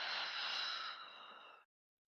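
A soft, steady exhale during a mat pilates workout, close to the microphone, lasting about a second and a half before stopping into silence.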